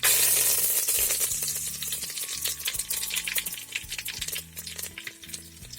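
Cumin and curry leaves hit hot oil with popped mustard seeds, starting with a loud sizzle burst that eases into crackling frying, with spoon clinks and scrapes against the pan.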